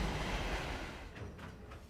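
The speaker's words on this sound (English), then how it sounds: "Carrying tons of wheat, this train crosses over the border at midnight." A train rumbles steadily along the tracks, a continuous low roar with faint rhythmic clatter, fairly distant and unaccompanied by voices.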